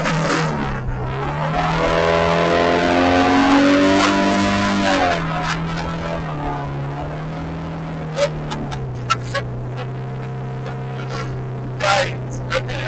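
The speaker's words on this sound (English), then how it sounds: "Oh, it sounds like a diesel." A car with a bad exhaust drives along with a rough, diesel-like drone. The engine revs up and settles into a lower steady rumble, close by, with a few knocks and clunks toward the end.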